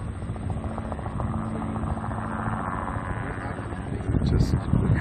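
A low-flying helicopter over the Dakota Access Pipeline protest site gives off a steady rotor drone and thump that grows slightly louder near the end, with a voice talking over it.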